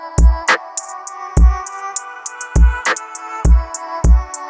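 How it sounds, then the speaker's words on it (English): A punchy drum loop with booming low kicks and crisp hits repeating steadily beneath a sustained synth melody, loud and up front. "So here's the drums and the melody together."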